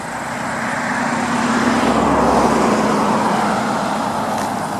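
Road traffic passes near an overgrown former driveway, a loud continuous wash of tire and engine noise swelling as a vehicle goes by, then easing off.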